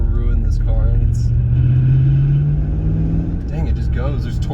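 A V8 BMW E23 sedan with a five-speed manual accelerates from the cabin, its engine note climbing steadily and loudly, then easing off over a constant road rumble.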